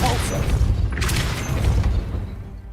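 Depulso spell cast in Hogwarts Legacy: a dull booming burst with a brief whooshing swell in the middle, set over a steady low game rumble.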